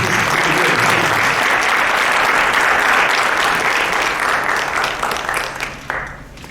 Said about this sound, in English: Can we please applaud for all of them